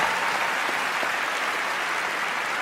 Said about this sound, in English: So please, a round of applause for them.